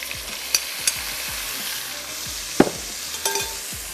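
Onions frying in a pot while being stirred, a steady sizzle with a scrape of the spoon every so often, close and alone, prepared for a tikka biryani.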